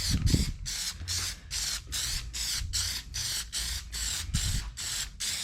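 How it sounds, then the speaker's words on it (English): Rapid bursts of aerosol spray paint repeat in a steady rhythm, about two per second, close and hissy, with a faint low thump now and then. "So, a nice, smooth spray."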